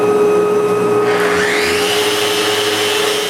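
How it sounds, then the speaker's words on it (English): A power sander works raised wooden panels for a nightstand with a steady, loud whine, its pitch shifting and dipping partway through as pressure on the wood changes, continuous throughout with no voices. "I sand both raised panels, while trying to hold them as best as I can."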